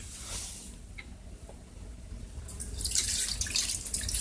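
Water pours and trickles out of a 2002 Craftsman Tecumseh 4.25 HP lawnmower engine, a light splashing flow that swells louder and fuller in the second half.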